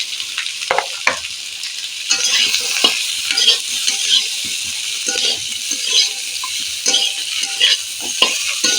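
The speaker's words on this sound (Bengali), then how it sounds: "বেশ খানিক্ষণ আমায় নাড়তে হবে" A spoon repeatedly stirs potato, onion and jackfruit seeds frying in a pan, irregular scraping knocks over a constant bright sizzle, close and fairly loud.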